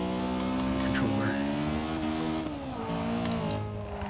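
Simulated Honda Integra GS-R engine in Forza Motorsport 6 revs steadily with rising and falling harmonic tones, a continuous loud drone that dips briefly midway before climbing again, with faint voice-like sound mixed in.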